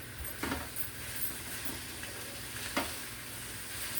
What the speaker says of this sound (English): We're gonna keep frying. Just keep frying this cabbage up. See how it's just frying?